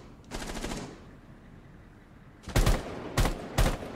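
Rapid automatic gunfire from pre-firing in a competitive video game wager match, one long burst followed by three short sharp bursts, loud and close.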